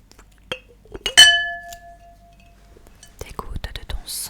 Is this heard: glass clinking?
yes